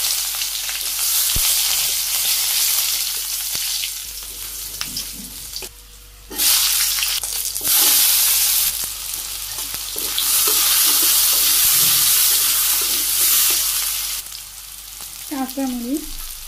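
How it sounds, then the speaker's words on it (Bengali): Chopped onion and cumin seeds frying in hot oil for a Bangladeshi aloo begun curry, a loud steady sizzle running throughout, with brief stirring clinks and a short pause midway. "তেলের মধ্যে আমি একটু তেল দিয়ে দিতেছি, একটু জিরে,"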